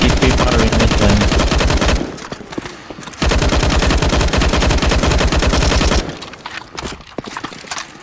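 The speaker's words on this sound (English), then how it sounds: "keep shooting the zombies. Just keep firing this one." Loud, continuous automatic gunfire from shooting zombies in the CS:GO Zombie Escape video game, rapid bursts of rhythmic shots lasting a couple of seconds each, separated by short pauses of quieter game noise, close and dominant.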